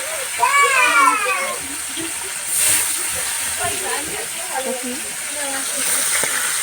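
Fish slide into a hot pan at home, with a sharp steamy hiss and crackling sizzle that flares up and then settles into steady frying, while someone talks over it.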